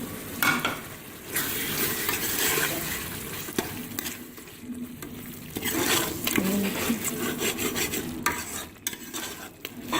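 Fenugreek leaves frying and being stirred into a mutton tripe (ojhri) curry, giving a continuous close sizzle with repeated scraping and stirring strokes of a spoon in the pot.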